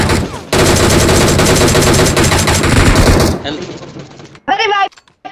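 Rapid, loud automatic gunfire in the video game PUBG rattles in a dense, continuous burst for about three seconds, then breaks into scattered shots, with a player's voice speaking near the end.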